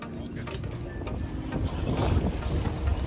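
Motorboat on the water at Krka National Park in Croatia, a steady engine rumble with wind and water noise growing slightly louder as the boat approaches.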